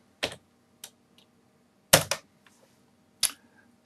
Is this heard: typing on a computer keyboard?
yes